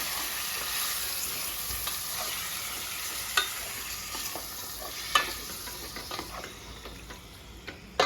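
Chicken sizzles and crackles in hot oil in a pan, a steady hiss broken by occasional sharp pops and stirring scrapes.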